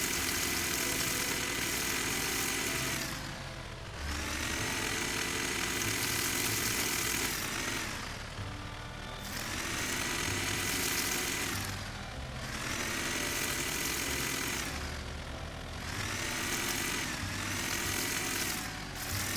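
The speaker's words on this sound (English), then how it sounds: "Navigating with this tractor can sometimes be a little tricky." Tractor engine in the farming video game Dinkum, a steady mid-pitched drone that swells and dips in repeated cycles as the vehicle moves and turns, continuous and close with no talk over it.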